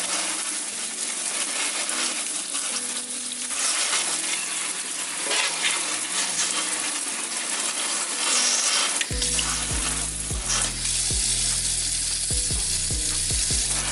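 Freshly harvested homegrown ginger is rinsed indoors under running water, with a steady close splashing hiss and clattering knocks of roots against a sink or bowl.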